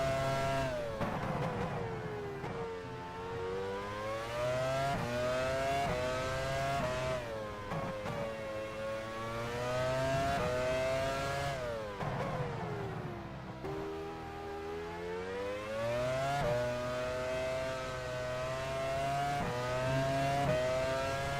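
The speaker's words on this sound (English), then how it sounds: "Honda engine is doing well." In the F1 Challenge 99-02 racing game, a Honda Formula 1 race car engine howls loudly, rising and falling through repeated upshifts and downshifts as the car brakes and accelerates through corners.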